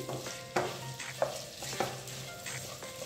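Onions are stir-fried into vegetable fried rice with a steady, close sizzle and a few distinct clanks and scrapes of a spoon against the pan.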